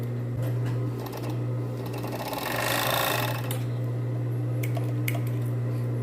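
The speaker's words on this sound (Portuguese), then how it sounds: "Eu vou passar o overlock aqui de novo, ó." Overlock serger running steadily as it stitches bikini fabric, a continuous close mechanical hum with a faster, louder burst of stitching near the middle, with no talk.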